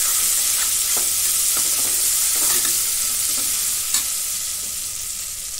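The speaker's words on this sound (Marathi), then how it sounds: "परतून घेऊ." Ginger-garlic paste sautéing in a hot pan for masala rice, a steady loud sizzle with repeated stirring scrapes throughout.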